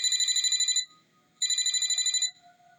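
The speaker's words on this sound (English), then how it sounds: "Then my work phone rang." A work phone rings in two electronic bursts, each a rapid pulsing trill lasting under a second, separated by a short silence, fairly close and clear with no talking.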